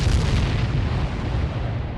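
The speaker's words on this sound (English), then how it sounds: "There was this tremendous explosion, almost like a geyser going off." A massive mine detonation beneath Confederate lines on the morning of July 30, 1864, a deep, sustained roaring boom that rumbles loudly and steadily without pause, with no voices.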